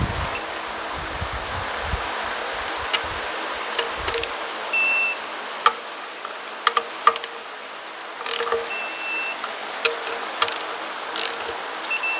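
A ratchet tightens the timing chain cover bolts on a 2010 Chevrolet Equinox engine, giving close, intermittent bursts of quick clicking separated by short pauses and soft handling noises.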